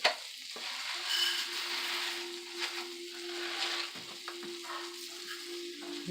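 Rice toasting in a pan over medium-high heat, giving a steady soft sizzle and frying hiss with occasional stirring scrapes, close and alone without talk.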